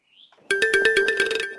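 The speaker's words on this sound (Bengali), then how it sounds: "খালা, টিয়া ফোন করিছে, কথা কবে?" A mobile phone rings for an incoming call in a Bangladeshi drama scene: a brief faint chirp, then a loud, steady, rapidly pulsing electronic ringtone that plays alone for about a second.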